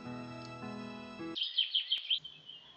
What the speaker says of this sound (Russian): Слышу пение птиц за окном